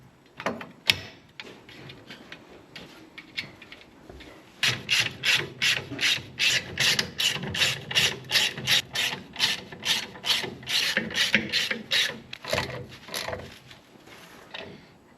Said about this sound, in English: You might notice this really cool vintage snap-on ratchet that we're using.